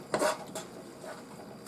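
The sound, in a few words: spoon mixing fudge in a pan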